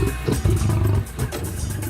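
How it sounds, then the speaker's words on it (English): A deep, prehistoric big-cat roar attributed to the massive American lion rumbles loudly and continuously, swelling midway and then trailing into lower growling over about two seconds. "And the massive American lion."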